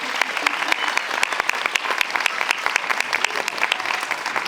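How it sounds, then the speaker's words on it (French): Audience at a mayor's New Year's address breaks into steady applause, dense clapping filling the room at close range with no voices standing out. "on peut l'applaudir aussi"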